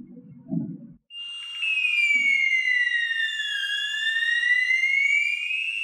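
A gas extinguishing control panel sounds its fire alarm during a manual release test: a loud, steady electronic tone that sweeps slowly up and down, starting after a brief low knock and continuing alone to the end.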